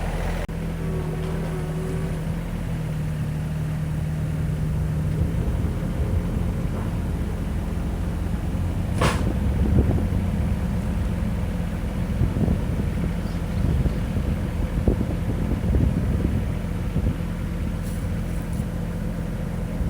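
Kioti CS2520 compact tractor idling steadily while lifting a half-full IBC tote of firewood, a low continuous engine drone under outdoor wind noise with faint rattles and knocks throughout.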